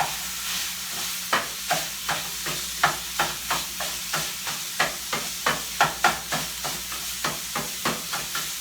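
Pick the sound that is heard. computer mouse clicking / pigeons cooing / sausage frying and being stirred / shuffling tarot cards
sausage frying and being stirred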